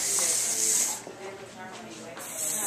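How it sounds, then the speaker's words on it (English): Medium-hold hairspray misted over a top-knot bun in a salon, two close hissing bursts with a short quiet gap between them. "spray the bun just to keep it"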